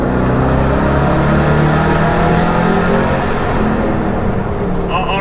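Aston Martin GT8 engine revving hard inside a road tunnel, a loud sustained roar with dense layered harmonics that echo off the walls, easing slightly toward the end as a voice starts to speak.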